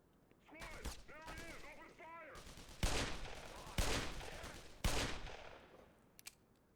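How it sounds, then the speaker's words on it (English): Magnum revolver shots ring out in the Black Mesa video game: three sharp, loud cracks spaced about a second apart, each trailing a short echo, after a stretch of chattering creature noises. "When I'm firing a magnum like this"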